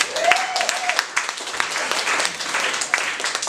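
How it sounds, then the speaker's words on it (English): An audience at a comedy night breaks into dense applause and clapping, loud and sustained for a few seconds, with scattered voices and a brief whoop mixed into the crowd noise. "By round of applause, how many of you guys had a pet dog in your life?"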